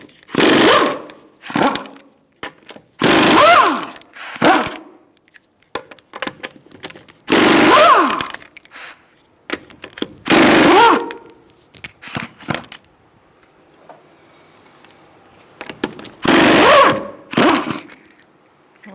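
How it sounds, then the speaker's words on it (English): Wheel nuts on a 2014-2018 Subaru Forester being removed with a 19mm socket on a power tool, loud close buzzing bursts of a few seconds each, repeated several times with short gaps between. "I'm going to use a 19mm socket to take the wheel off."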